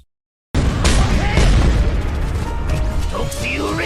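Satellite-controlled missile explosions in the video game Just Cause 2 erupt after a moment of silence into a loud, deep rumbling blast that rolls on with crackling debris and whistling sounds, while a voice speaks over it.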